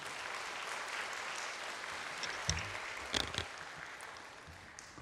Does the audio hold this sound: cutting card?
no